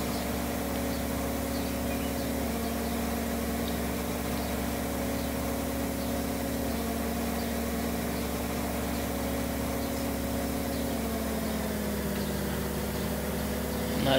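Engine of a Massey Ferguson tractor idling in the video game Farming Simulator 2013, a steady low drone with a constant hum that holds evenly throughout at moderate level, with no speech.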